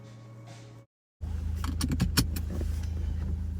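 Car creeping along at its slowest crawl-mode speed on a road drive, a steady low drone of motor and tyres with a brief dropout before it resumes louder, some faint clicks and rattles on top.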